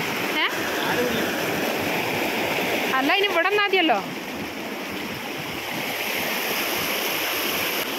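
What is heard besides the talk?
flowing stream water around a pipe in Wayanad village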